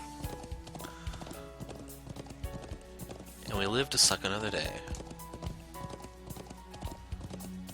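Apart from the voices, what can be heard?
horse hooves clip-clopping in the video game Trails of Cold Steel 3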